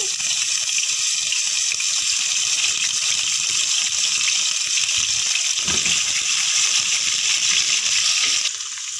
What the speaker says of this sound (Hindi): अब उसी आयल में डाला अदरक लहसुन का पेस्ट